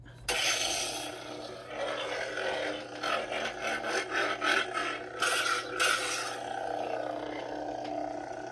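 A one-inch lightsaber blade slides snugly down into a weathered Proffieboard neopixel master chassis hilt, giving a close, dry scraping and rubbing sound with short bursts of friction.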